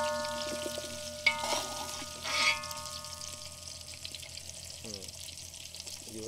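Cumin, dried red chilies and curry leaves fry in oil over a wood-fired stove, sounding as a soft, steady sizzle with a couple of stirring scrapes near the start.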